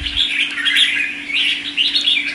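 A caged songbird offered for sale sings loud, close, repeated bright chirping phrases in quick bursts, with a low steady hum running beneath and no talking.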